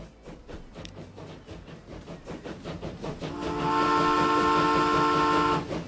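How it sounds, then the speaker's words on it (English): A locomotive in the Transport Fever 2 train simulation game chugs with a steady rhythmic beat, then builds into a louder sustained rumble with a tonal, whistle-like hum layered on top. "That is a locomotive."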